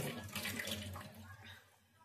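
Tamarind sour curry with catla fish boils in a pot, giving a close, hissing, watery bubbling that is strongest at first and then thins out over a low steady hum.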